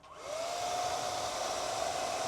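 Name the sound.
hair dryer running inside a Musso camper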